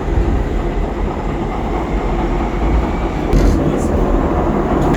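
A Docklands Light Railway train in London rumbles along steadily with a loud, continuous low roar and a brief rise in noise near the end, heard from inside the carriage.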